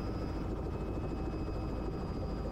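Steady, loud rotor and turbine drone of a Robinson R66 helicopter heard from inside the cabin during a sunset flight, a continuous dense roar with a faint rhythmic blade pulse.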